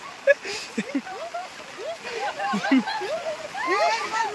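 Several splashes as people are lifted and thrown into water amid lively chatter and shouts from a group of people nearby.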